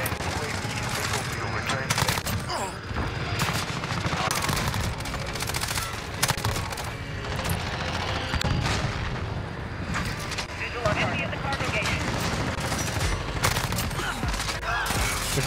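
RAM-7 assault rifle fire in Modern Warfare rattles in loud, dense bursts, with booming explosions and battlefield noise layered on top and a voice talking at times.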